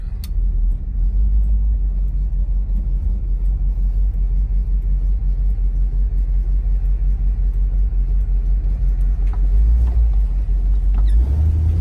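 A 1958 Pontiac Bonneville Sport Coupe with Tri-Power carburetion cruising down a road, heard from inside as a steady, low engine and road rumble with no talk, swelling slightly near the end.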